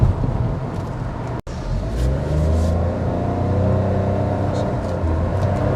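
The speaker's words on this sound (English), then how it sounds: "I am testing this vehicle on medium speed." A Maruti Suzuki Grand Vitara Strong Hybrid SUV drives at medium speed, with a steady, moderate engine and road rumble that holds a continuous drone and has one brief dropout near the start.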